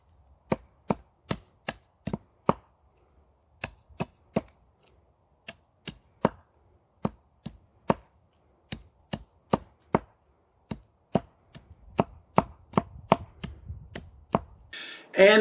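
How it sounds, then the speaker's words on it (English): A SOG Camp Axe chops a branch tip to a point for a plant stake, a steady string of sharp, close wooden strikes with short pauses, speeding up toward the end, no talk. "I can also do it with just very accurate chopping to whittle that tip down"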